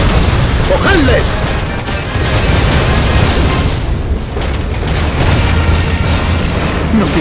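Heavy gunfire and rumbling explosions from the WWII strategy game Codename Panzers 2, Allied campaign at Tobruk, a loud continuous barrage of booms with voices shouting over it.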